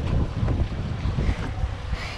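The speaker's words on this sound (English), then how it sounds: "And this is the weather. Bad waves, bad waves." Strong wind buffets the microphone aboard a fishing boat at sea off Wilmington, North Carolina, with rough waves churning in a steady, loud roar and no voices.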